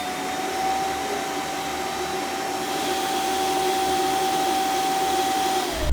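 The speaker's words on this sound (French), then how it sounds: "vous allez entendre que la station d'accueil va directement vider le bac à poussière du robot et le tout de manière automatique" A Eureka J20 robot vacuum's docking station automatically empties the robot's dust bin with a loud, steady whirring suction and a faint high whine that runs unbroken for several seconds.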